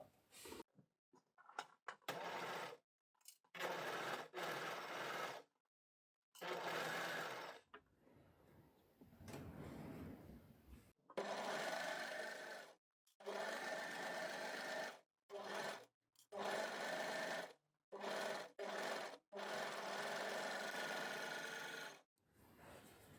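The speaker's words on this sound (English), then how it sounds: "You can free arm sew if you've got the ability to do that. and sew around your hem." An overlocker serger stitches around a fabric hem in repeated bursts of fast mechanical whirring, separated by short stops, close and loud with no talking.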